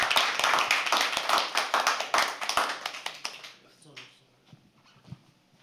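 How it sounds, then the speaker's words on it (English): Audience applause at a live poetry open mic, dense steady clapping that thins out and fades, with a few voices speaking over the room. "Keep clapping till he comes on stage."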